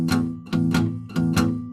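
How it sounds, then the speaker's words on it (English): Acoustic blues guitar playing a shuffle, with strummed chords and plucked notes in an uneven rhythm of about four bursts over two seconds, close and fairly loud with no talking. "in the blues, you have like a shuffle sound"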